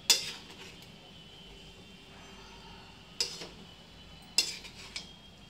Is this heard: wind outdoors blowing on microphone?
no